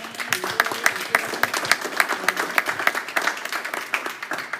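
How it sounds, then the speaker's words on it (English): An audience at an annual meeting gives sustained applause, a dense, steady wash of many hands clapping close by that holds for several seconds. "So give them all a big round of applause."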